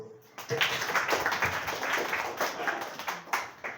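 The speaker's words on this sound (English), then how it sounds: "Clap for us." Audience applause at a children's school entrepreneurship event in Zaria, a short burst of clapping that starts suddenly and tapers off, with some voices mixed in.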